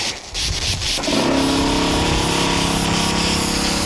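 Compressed air rushes through a sprinkler system during winterizing, opening after a second of lower hiss into a loud, steady, full-pressure blast that holds without a break to the end.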